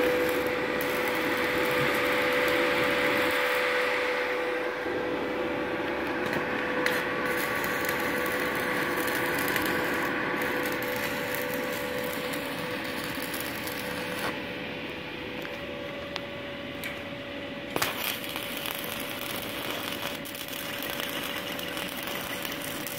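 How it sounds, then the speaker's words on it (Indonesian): A JBT TIG 220AD argon welding machine's cooling fan runs after the unit heats up, giving a steady close whir with a constant hum and occasional small clicks and knocks around it. "Ini setelah mesin panas, kipasnya langsung hidup."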